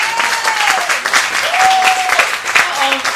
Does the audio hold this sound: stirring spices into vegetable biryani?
no